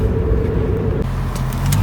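A Pontiac's engine runs steadily while the car drives along, a loud, continuous close-up drone with a slight shift in tone partway through and no talk over it.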